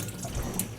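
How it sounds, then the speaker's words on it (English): Water runs gently over turmeric-dyed yarn being rinsed slowly, giving a soft, steady trickle close by. "we're going to need to carefully and slowly rinse this"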